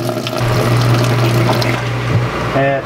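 A Giantex washing machine fills with water while adjusting its water level, a steady close rush of inflowing water with a low hum running throughout and a brief tonal whine near the end.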